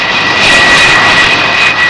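Aircraft engines roar loudly and steadily as planes launch from a ship's deck, a sustained close whine and rush with no break.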